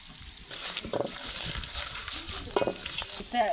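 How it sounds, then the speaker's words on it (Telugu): Curry leaves and dried red chillies fry in hot oil for vermicelli pulihora, a soft continuous sizzle with occasional stirring scrapes and small pops. "పచ్చిమిర్చి కొంచెం ఫ్రై అయిన తర్వాత కరేపాకు ఎండుమిర్చి వేసి సేమియాలు వేసుకోవడం"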